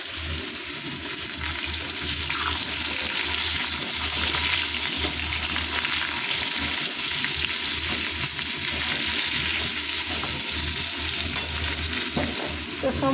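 Pumpkin, carrot and potato fry in oil tempered with panch phoron, giving a constant close sizzle with faint stirring throughout.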